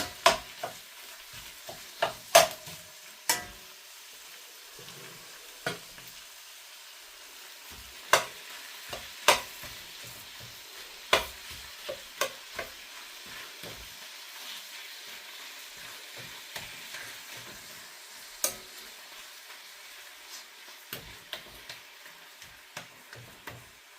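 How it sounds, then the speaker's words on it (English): Beef mince fries in a pan with a steady soft sizzle, broken by sharp scraping clicks as it is stirred at irregular intervals, close by with no talking. "cook the mince until it's brown"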